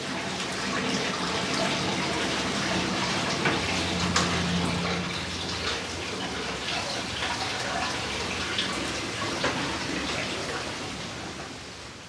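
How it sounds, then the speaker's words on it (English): Hot water pours steadily into a tub over pressed wax cloths during wax extraction, a continuous broad rushing splash at close range that runs unbroken from start to finish, with no talk. "Hot water is added to reheat and rinse the contents."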